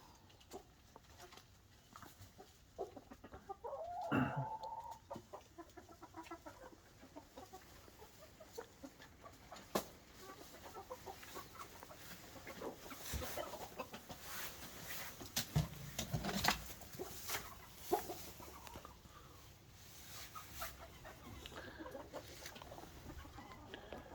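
Roosters and hens cluck and murmur softly in the distance in a cold winter coop, with an occasional louder squawk and scattered small taps and rustles, fairly quiet overall.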